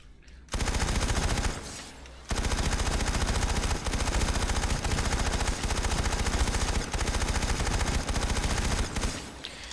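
A TR automatic weapon in the video game PlanetSide 2 fires in long, extremely rapid bursts, a dense loud stream of shots with a brief pause after the first short burst.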